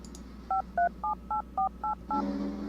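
Touch-tone phone keypad beeps from the horror adventure game Darkness Within, seven evenly spaced dual-tone presses in a steady rhythm, clear and prominent over a faint background hum.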